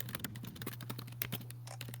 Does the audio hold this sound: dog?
no